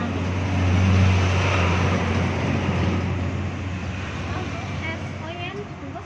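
Passing car traffic hums steadily beside a roadside food stall facing rice fields, a continuous moderately loud road rumble heaviest at the start, with voices talking over it throughout.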